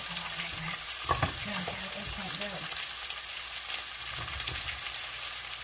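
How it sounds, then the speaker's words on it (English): Hot oil sizzles steadily as eggplant fries in a pan, a continuous bright hiss, with a few soft stirring scrapes and faint background talk. "You can hear it sizzling."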